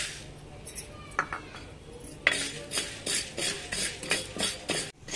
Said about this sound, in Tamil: இந்த மாதிரி மிளகை வறுத்துக்கோங்க.